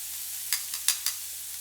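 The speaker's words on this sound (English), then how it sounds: "I'm just going to use some tongs to stir this" Long carrot strands sautéing in olive oil in a pan, stirred with tongs: a steady soft sizzle with three or four brief scraping stir strokes, close and quiet, no talk.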